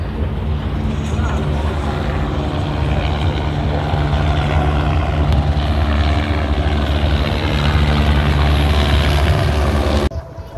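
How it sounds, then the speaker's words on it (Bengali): A helicopter flies over the Delaware River waterfront with a loud, steady droning rotor and engine hum that holds throughout, then cuts off abruptly at the very end. "ওই যে একটা হেলিকপ্টার"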